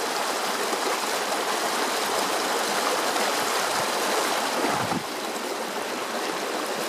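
Water runs and rushes steadily while gold is panned outdoors, a dense, close hiss of flowing water that continues unbroken, with a slight drop in level near the end and no speech.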